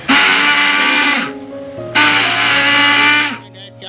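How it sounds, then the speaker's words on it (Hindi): Electric mixer grinder running with an abnormal, harsh noise: two loud whirring bursts broken by a short pause, close and dominant. "मिक्सी चालू है बट ये आवाज़ कर रहा है"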